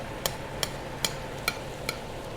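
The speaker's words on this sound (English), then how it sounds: "basting and glazing the morels." Morels cooked fast in a pan in a restaurant kitchen while being basted and glazed in sauce, with five sharp evenly spaced taps like a spoon against the pan over a low steady background.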